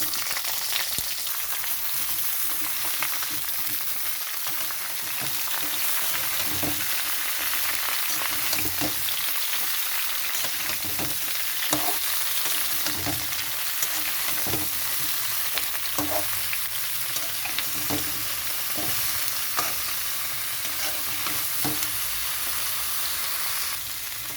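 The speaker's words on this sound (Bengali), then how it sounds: "সবজিটা একটু কষানো হয়ে গেছে" Mixed vegetables for a mustard-cashew shukto stir-fry in a pan, a steady close crackling sizzle running throughout with repeated scraping knocks of a spatula turning them at irregular intervals.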